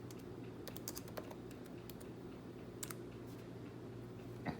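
Typing on a computer keyboard, a steady run of light, quick key clicks with a few louder taps, close and alone with no talk.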